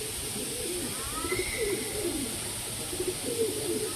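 A Roushan sabja pigeon pair coos nearby in a series of soft, low, rolling coos that repeat at an unhurried rhythm over a steady, faint background hiss.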